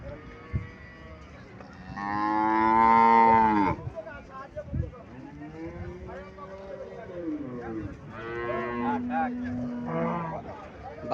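A cow, shown for sale at a rural cattle market with its three-day-old calf, gives two long, loud, close moos, with someone talking between and over the calls.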